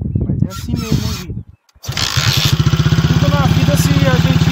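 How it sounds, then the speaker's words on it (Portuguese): A motorcycle engine starts up after a brief gap and settles into a loud, rapid, steady pulsing idle close by, with talk and rustling heard before the engine catches. "Esse aqui é o pezinho que vai fazer a moto entrar no barulho"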